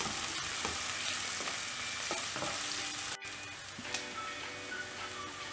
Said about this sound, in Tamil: பூண்டு ஆட் பண்ணிவிட்டு இதை நல்லா ஃப்ரை பண்ணிடலாம்